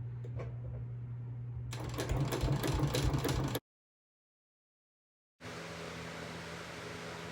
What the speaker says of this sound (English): Continue sewing around your square until you come back around to the corner where you started.